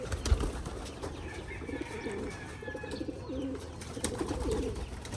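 Racing pigeons during recall training coo in soft repeated low phrases nearby, with light rustling and faint background noise; no talk is heard.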